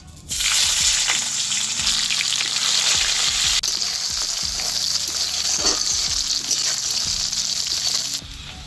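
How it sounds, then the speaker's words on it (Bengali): Sliced onions hit hot oil in a kadai with a sudden loud sizzle, then fry steadily with a bright, hissing crackle and a few stirring scrapes, cutting off near the end. "এইবারে কড়াইতে দিয়ে দেবো পেঁয়াজ"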